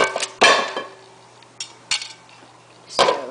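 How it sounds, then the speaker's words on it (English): A metal lid is set onto a pot of eggplant stew on the stove, giving a few sharp clinks and clanks spaced over a few seconds, close and fairly loud against a low background hum. "And I'm going to cover this with a lid."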